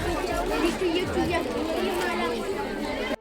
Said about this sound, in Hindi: बहुत भीड़ है, पता नहीं कहाँ रास्ता मिलेगा।